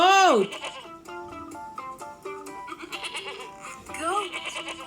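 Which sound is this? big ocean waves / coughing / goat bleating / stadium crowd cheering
goat bleating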